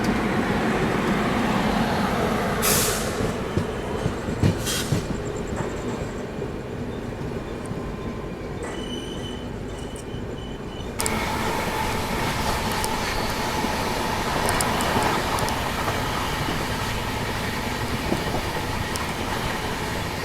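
At night, a passenger train rumbles steadily through a station where it does not halt, with rolling wheel noise, brief sharp clanks and a sudden shift in tone partway through, and no speech.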